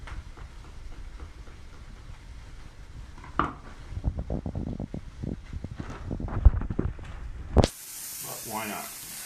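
Half-cooked leftover bacon tossed into a hot pan: scattered clatter and soft knocks give way to a sudden loud, bright sizzle that keeps hissing steadily, with talk earlier on.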